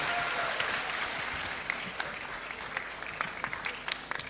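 Sustained applause from a church congregation during a sermon by a pastor, a steady wash of many hands clapping at moderate distance, thinning toward the end into scattered individual claps.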